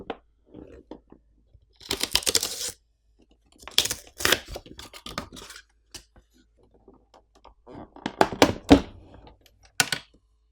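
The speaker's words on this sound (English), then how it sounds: "let's go ahead and unbox the Wild Mini." Muzen Wild Mini rugged Bluetooth speaker packaging handled and opened in short bursts of rustling, tapping and crinkling, separated by quiet pauses, close up.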